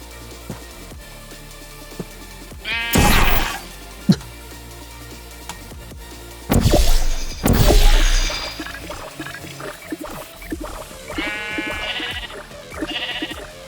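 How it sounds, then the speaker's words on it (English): Sheep bleating in Minecraft within the FTB Infinity Evolved modpack, several loud, close bleats in separate bursts with quieter game sounds between them and no talking. "Where you going, sheep?"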